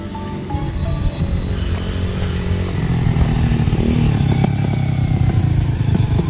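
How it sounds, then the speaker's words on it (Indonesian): A motorcycle engine runs loud and close on a road in a remote Javanese village, a steady rumbling drone that builds slightly as it passes, with no talking over it. "Itu ada orang sedang membawa sepeda motor teman-teman."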